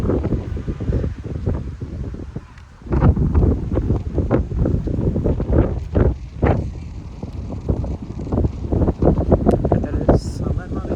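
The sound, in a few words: strong wind blowing outdoors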